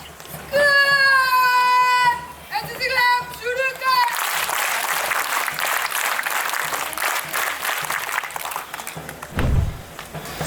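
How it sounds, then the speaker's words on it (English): Applause from a school Toastmasters club audience at Veritas Sainik School, Tirupati, welcoming a student speaker. It rises to a loud, dense wash of clapping after a brief tonal voice-like sound at the start, then holds steady before dropping off near the end. "Please welcome him with a big round of applause"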